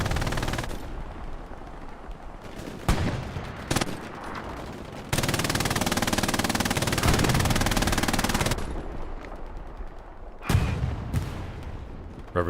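Sustained automatic fire from a machine gun position in a WWII online battle game at Omaha Beach, Vierville, with long dense bursts broken by single loud shots and booming explosions, loud and continuous without speech.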